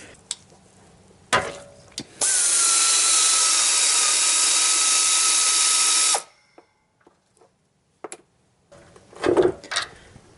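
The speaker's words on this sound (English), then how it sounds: "That's going to take an 18mm socket and optionally a 3/4 or 19mm wrench to hold the stud here and keep it from counter rotating." An 18mm socket on a ratchet loosens a sway bar end link nut on a Chevy Tahoe or GMC truck. It makes a loud, continuous four-second whir of fast ratcheting, with sharp metallic clunks before and after.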